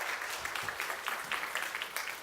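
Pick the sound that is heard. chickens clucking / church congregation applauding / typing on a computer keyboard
church congregation applauding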